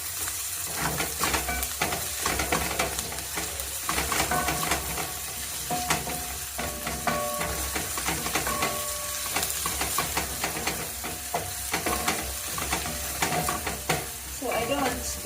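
Garlic and ginger fry with onions in a pan, giving a dense, continuous sizzle broken by repeated stirring scrapes and clicks of a utensil, with no talking.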